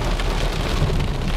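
Steady rain drums over the car while driving on a rainy evening, a dense, even wash of noise with no voices and no break.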